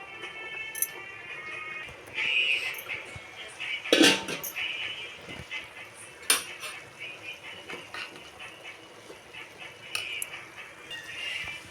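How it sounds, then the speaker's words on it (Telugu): A metal lid is set onto a cooking pot while village-style coriander chutney is being made, giving a sharp clatter near the middle amid scattered clinks of utensils and kitchen handling. "ఇదే మూత అయితే పెట్టేస్తున్నాం."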